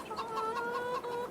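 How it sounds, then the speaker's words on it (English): Chickens in the video game Farming Simulator 22 cluck in a short run of repeated, fairly close calls with no talking over them. "I do love these chickens. I love when you see them dart."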